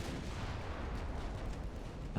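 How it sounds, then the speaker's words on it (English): Secondary guns on a battleship fire at a light cruiser in Ultimate Admiral: Dreadnoughts naval combat, a continuous rumbling barrage of distant gunfire and booms with no speech. "fire secondary guns at a CL and sink it"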